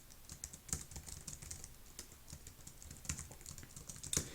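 Fingers tap quickly on a small computer keyboard, close and fairly soft, in an uneven run of light clicks with a few louder key strikes, no voices.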